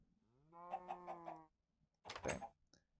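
Minecraft chicken clucking: a short run of four pulsed, tonal clucks, then a brief harsher squawk after a pause, close and clear with a quiet background.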